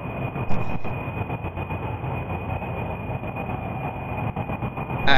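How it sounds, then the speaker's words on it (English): Rocket engines in Kerbal Space Program give a loud, continuous rumbling roar with a thin steady whine, a brief bright burst near the start and a surge at the end, no voices. "Those engines sound kind of weird."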